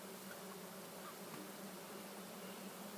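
Honey bees from an opened hive make a steady, even buzzing drone that fills the whole stretch with little change.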